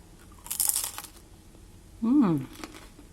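A single crisp crunch from biting into homemade air-fryer churros, close up, then a short murmured voice in Spanish.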